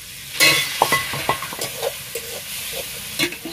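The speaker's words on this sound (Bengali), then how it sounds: "মটরশুঁটিটা একটু ভেজে নেব।" Peas fry in a salted pan or kadai, a soft sizzle broken by several quick scraping stirs and light clinks of the spatula close by.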